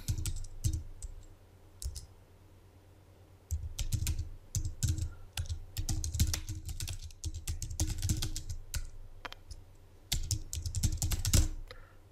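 Keyboard typing in Peachtree 2009 accounting software, close and steady, in bursts of rapid keystrokes with a short pause near the start, no voices.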